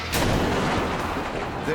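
A loud crash-test impact as a car loaded with two large passengers slams into an obstacle, a dense booming bang that stays loud and rumbling through the short span.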